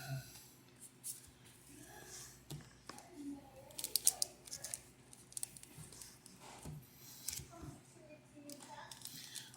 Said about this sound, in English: Me trying to open the pack is what we got